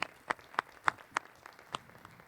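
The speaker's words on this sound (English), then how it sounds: "A round of applause to everyone" A few sparse, evenly spaced hand claps ring out at a board of education meeting, about seven distinct claps, faint and somewhat distant, with no voices over them.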